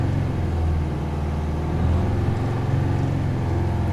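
Detroit 8V92 diesel in a Peterbilt 359 holding a steady, deep low rumble with a slight rise in pitch, the pedal floored yet revs staying low around 1200 RPM; close and continuous with no talk.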